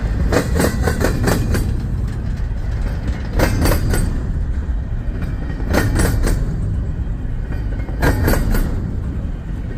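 A train rolls across a railroad diamond, its wheels striking the crossing in sharp clustered clacks that repeat in groups every few seconds over a continuous loud rumble, with no voices.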